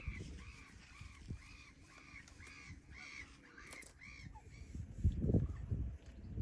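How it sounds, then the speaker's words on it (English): At a carp fishing spot, a bird gives a run of about eight harsh, evenly spaced caws, one after another at a moderate distance, followed by low rumbling handling noise close by. "These blooming birds, look at them."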